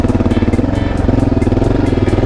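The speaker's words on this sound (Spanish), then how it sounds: "como no hace ruido mi puta moto" A motorcycle engine thrums while riding along past a farm, a loud close pulsing rhythm of rapid firing beats with steady throttle throughout.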